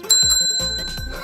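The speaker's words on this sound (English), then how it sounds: "A bell! Listen. Do you hear that?" A bright bicycle-style bell rings with a few quick, clear metallic dings that leave a lingering tone, up close and loud, with small thumps underneath.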